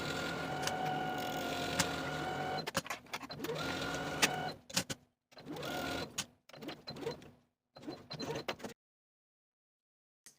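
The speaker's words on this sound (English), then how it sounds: "sewing machine and sew with a 1/2-inch seam allowance from notch to notch" A home sewing machine stitches a garment seam with a 1/2-inch allowance, its motor whirring steadily nearby, then running in shorter stop-start bursts before falling silent.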